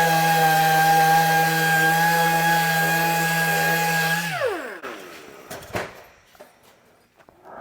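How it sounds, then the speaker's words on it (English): A DA orbital sander whirs steadily at a high pitch while sanding parts of a Peterbilt 359 truck, then winds down and stops, leaving scattered handling noises and light knocks. "this DA orbital sander is the money. This thing will really take material down."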